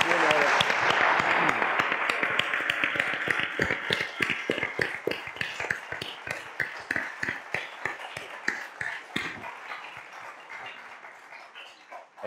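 Audience at a panel discussion on tolerance and terrorism applauds, a burst of scattered clapping mixed with voices at first, then thinning to a few individual claps that fade out.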